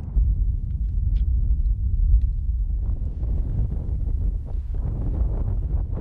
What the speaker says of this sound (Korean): 바람소리 외에는 아무것도 들리지 않는 적막한 땅